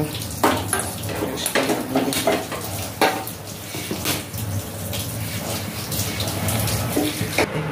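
Cut potatoes are rinsed under a running kitchen tap, a steady splashing water stream broken by repeated clinks and knocks of the pieces and bowl, close and moderately loud.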